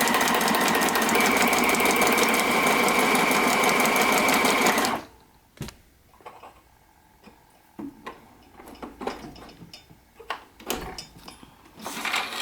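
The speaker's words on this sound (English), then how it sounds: "this is sewing on the lowest setting" A Michley Inspiration 700m 16-stitch sewing machine runs on its lowest speed setting, a steady rapid mechanical ticking for several seconds that stops suddenly, followed by scattered light clicks and handling noises.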